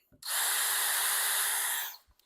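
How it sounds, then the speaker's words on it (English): A power drill with a 1/16 inch bit runs in one steady, high whirring burst of about two seconds while boring a pilot hole for a concealed-hinge screw, close and loud, starting and stopping abruptly. "drill through those holes just a little bit to start pilot holes for your screws"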